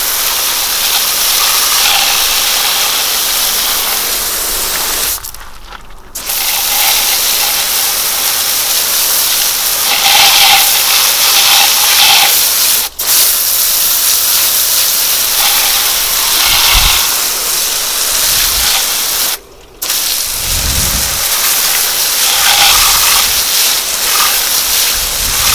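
Steady, loud hiss of a high-pressure water spray rinsing a Plasti Dip-coated wheel, running almost continuously with two brief pauses, close and unbroken, no talking.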